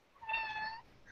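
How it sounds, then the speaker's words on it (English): A house cat meows once indoors, a single drawn-out call with a rising then falling pitch, fairly close and clear against a quiet room. "that's my cat, if you heard it"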